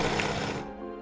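A sewing machine stitches thread for a Regency-inspired couture dress, a short loud mechanical whir of rapid needle strokes that cuts off partway and leaves a faint hum.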